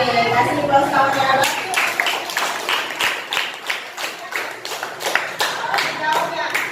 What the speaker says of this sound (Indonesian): Oke, kasih aplaus kawannya